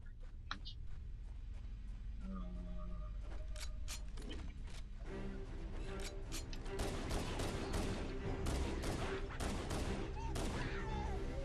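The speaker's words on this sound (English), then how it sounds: "I was grenading him and shooting him with a pistol." Gunfire and grenade blasts in the Halo: Combat Evolved video game, including plasma pistol shots, with a dense run of rapid shots and bursts building over the second half, mixed with game sound effects and a droning background.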